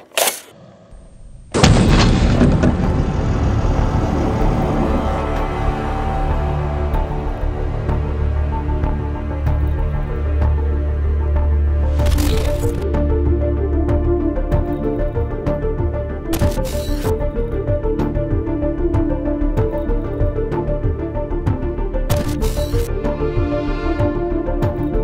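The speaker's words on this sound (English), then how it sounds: "we are shooting incendiary rounds at this guy today" Incendiary rounds fired at a level 3 armor plate from LA Police Gear, opening with a sharp shot and then a heavy, sustained roaring burn that continues at high volume for about twenty seconds, with further sharp cracks along the way.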